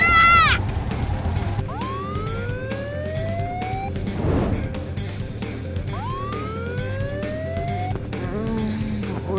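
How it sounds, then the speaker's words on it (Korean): Police siren in the video game Trickcal Revive, a loud rising wail that repeats twice over a background game soundtrack, with short chirps between the cycles. "웬 사이렌이야?"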